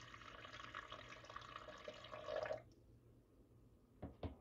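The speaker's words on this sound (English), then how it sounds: "we're going to go ahead and add just enough water to cover the bottom" Water from a tap pouring steadily into an Instant Pot holding jars, a soft continuous splashing flow that stops abruptly, followed by a couple of faint clinks.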